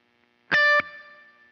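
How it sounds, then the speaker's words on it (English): Electric guitar through a fuzz pedal: a single short, loud, saturated note with a dense buzzy overtone stack, cut off quickly and leaving a faint sustained ring, played alone. "Okay, here's the fuzz."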